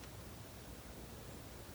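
A GMKtec K10 mini PC with an i9-13900HK idles at 43 degrees, its fan giving a very faint, steady airy hiss like soft noise, with no talking.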